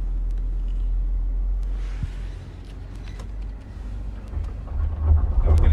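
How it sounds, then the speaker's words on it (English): A 2020 Mercedes G-Class strains off-road as its wheels spin, producing a low, rumbling engine drone that swells and surges toward the end, with faint scattered clicks and crunches from the terrain. "Now we're getting wheel spin again"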